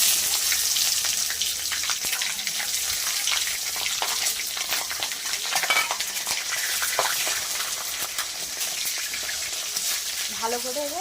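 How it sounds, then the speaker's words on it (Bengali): Onions sizzle steadily in hot oil in a pan after chillies and whole garam masala went in, a dense continuous frying hiss with occasional stirring clatter, close and loud, with no talk. "ভালো করে এবার ভেজে নেব পেঁয়াজটা।"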